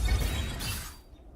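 A shard shattering effect from the video game Marvel Rivals: a bright, glassy burst of breaking shards that rings briefly and then fades away, heard alone without talk.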